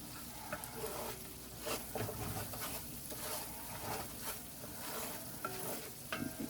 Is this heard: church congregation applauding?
no